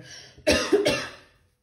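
A single harsh cough followed by a second cough from a scratchy throat, close and fairly loud, trailing off into silence.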